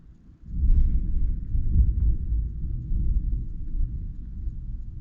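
Thunder rumbling outside during a thunderstorm, a deep, heavy low roll that swells after a brief hush and keeps grumbling unevenly, fairly loud, with no talking.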